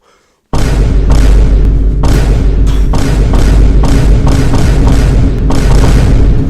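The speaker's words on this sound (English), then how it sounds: "It's the Instagram thud sound" The Instagram comedy thud sound effect repeats as a series of heavy, booming low thumps in quick irregular succession, very loud and close, after a brief silent start.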